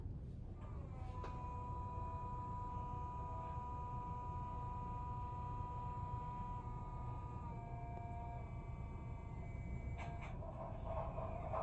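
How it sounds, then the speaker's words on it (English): An Aristocraft RS3 model locomotive fitted with a Zimo sound decoder runs its startup sequence: a steady diesel rumble with a droning tonal whine held throughout, and a brief clank near the end. "So to turn on the sound, it's traditionally F8, and that gives a startup sound and a shutdown sound."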